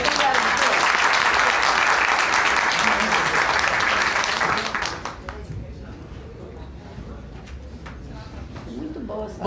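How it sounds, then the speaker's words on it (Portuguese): Audience applause at a political seminar on women's protection and participation, dense clapping that runs strong for about five seconds, then drops off abruptly, leaving quiet room noise and faint voices. "Uma salva de palmas."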